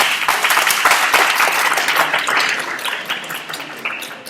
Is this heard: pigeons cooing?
no